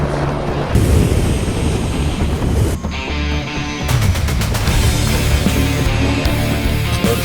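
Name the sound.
helicopter arriving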